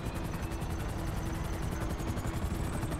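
A helicopter in a video game whirs in a steady stream of rapid rotor beats over a dense engine roar. It stays close and constant throughout, with no voices.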